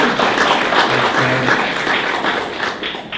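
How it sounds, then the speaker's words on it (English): An audience applauds after a business talk, a loud, close burst of many hands clapping that holds steady for a few seconds before easing slightly. "Yeah, let's give a round of applause."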